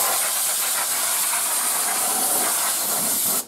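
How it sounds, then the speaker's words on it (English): Canned air blasts into a home server computer during cleanup in one continuous, loud, close hiss lasting about three seconds before cutting off abruptly. "Just a little blast of canned air."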